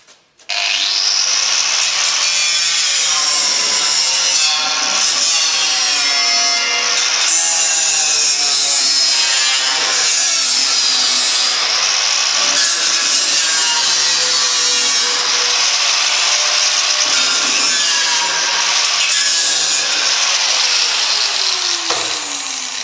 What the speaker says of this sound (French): Et là, on va couper les petites entailles à droite et à gauche et les deux côtés.